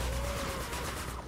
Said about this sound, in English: Boom, see that explosion?